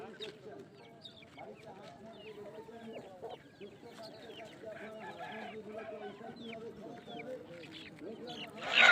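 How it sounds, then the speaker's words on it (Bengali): Roosters and chickens at a large village poultry market in West Bengal, clucking and crowing steadily and fairly close, with busy crowd chatter and voices underneath. "এই যে মোরগটা দেখতে পাচ্ছ"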